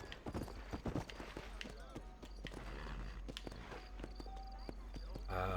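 Horse hooves clip-clop in a steady walking rhythm in the video game Red Dead Redemption, fairly close. They are mixed with in-game ambience and a talking voice.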